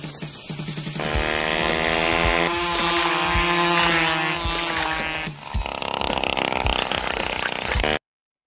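Voices imitate engine noises with their mouths in a French-dubbed cartoon, a continuous buzzing, droning drone that holds steady for several seconds, shifts pitch partway, then cuts off abruptly.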